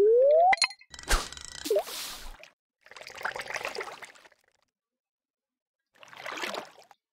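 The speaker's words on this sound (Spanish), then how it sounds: "Déjame echar la caña aquí, por probar." Fishing rod cast into a lake in Stardew Valley, a rising whoosh and reel click followed by a bright plop, then scattered splashy water bursts separated by silences, with no talking.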